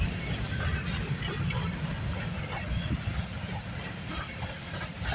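A CPKC freight train with a distributed power unit passes at Guelph Junction in Campbellville. A steady, fairly faint rumble of rolling wagons continues throughout at a distance.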